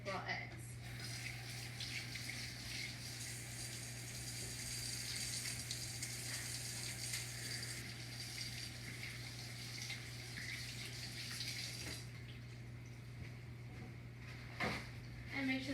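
Tap water runs steadily while hands are washed after handling raw eggs in a home kitchen during cupcake baking, a continuous broadband rush with a low hum beneath, fairly close and constant, briefly thinning near the end.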